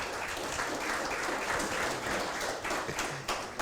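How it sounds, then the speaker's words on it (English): An audience applauds a leader at a book event, with dense, sustained clapping that holds steady and close for the whole stretch, no voices over it. "I think just for that we should give him a big round of applause."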